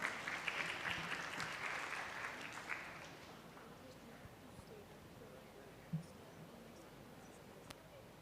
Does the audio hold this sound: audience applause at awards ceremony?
yes